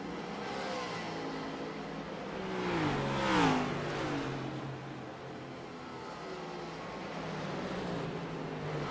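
Race car engines drone in iRacing at the Gateway oval, with one car roaring closer and sweeping past in a rising and falling pitch while other engines hum steadily behind.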